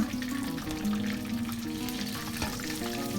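Hang Lay chicken frying in hot oil, a steady dense crackling sizzle with crisp pops, close and continuous throughout.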